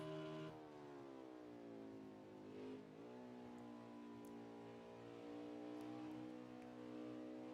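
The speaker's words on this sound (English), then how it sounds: "Listen to the motor as he dives into the bus stop here." Race car engine at Watkins Glen heard on board as the leading car brakes and downshifts into the bus stop chicane, a loud continuous motor with falling then rising pitch, close and alone.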